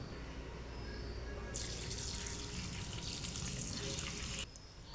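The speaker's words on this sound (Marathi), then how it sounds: "2-3 पाण्याने कोथिंबीर स्वच्छ धुवून घ्यायची" Fresh coriander leaves washed under running water, a steady tap stream starting partway in and splashing loudly into a sink for about three seconds before stopping, close and alone.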